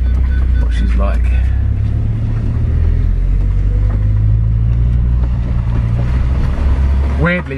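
An Audi RS6 with a twin-turbo V10 and 215,000 miles on it, heard on a road test: a steady, loud low engine drone and road rumble run throughout, with a rising rev sweep near the end.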